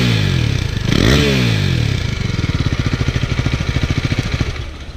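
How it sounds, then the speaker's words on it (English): A 2017 KTM Duke 390 motorcycle idles loud and close, blips its throttle in a sharp rising rev, then settles into a rapid, throbbing single-cylinder exhaust pulse before easing off. "Yeah, that was the exhaust note of the Duke 390"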